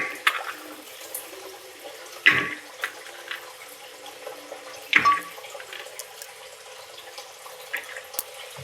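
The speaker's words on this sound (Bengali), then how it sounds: "2-3 বার এটাকে কচলে জল দিয়ে ধুয়ে নেব" Water runs over lentils being rinsed by hand in a kitchen, a faint steady trickle broken by a few louder splashes and sloshes.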